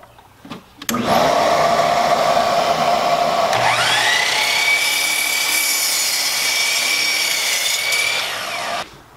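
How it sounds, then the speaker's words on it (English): A power saw cuts a notch out of a 2x6 wooden board for a teardrop camper hatch door, one steady loud whine running about eight seconds with a pitch shift partway through the cut, no voices. "So I'm going to cut the piece right out of this 2x6."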